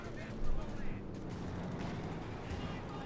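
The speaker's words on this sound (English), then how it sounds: "they're shooting down the aircraft a bit there" Anti-aircraft guns fire at aircraft during a Company of Heroes 2 battle between Wehrmacht and US forces. Two loud bursts of shots stand out early, over a steady rumble of battle noise.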